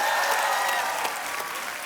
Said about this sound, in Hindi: जोरदार तालियां हो पाजी के लिए।